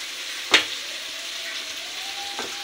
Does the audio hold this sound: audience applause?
no